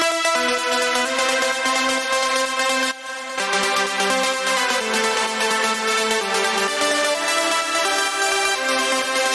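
A trance synth layer with long reverb, light distortion and sidechain pumping plays as a dense sustained chord progression with rhythmic volume ducking, loud and full throughout, with a brief dip partway through.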